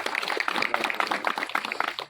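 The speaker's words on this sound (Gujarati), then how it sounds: "જયરાજભાઈને તાળીઓથી વધાવજો" Audience clapping at a farmers' meeting in Juna Vaghaniya village, a steady, dense patter of many hands at moderate volume lasting throughout, welcoming a speaker.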